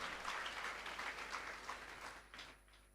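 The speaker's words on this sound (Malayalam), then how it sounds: "നമുക്ക് കൈയടിച്ച് കർത്താവിന് നന്ദി പറയാം" A church congregation claps in praise during a Corpus Christi feast service, a steady crowd applause that fades toward the end and sounds fairly distant.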